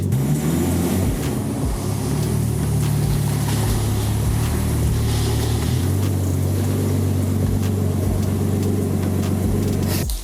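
Nissan Skyline idling and rolling slowly into a garage, a loud, steady low engine drone close by with slight rises in revs throughout.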